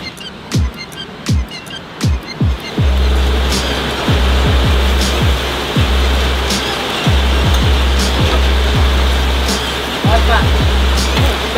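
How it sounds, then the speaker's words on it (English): Heavy pouring rain roars loudly and steadily at a grilled fish restaurant in Java, Indonesia, with repeated sharp knocks and clatters close by throughout. "It started pouring rain. I hope you can hear me okay. It's really loud. It's coming down like crazy in here."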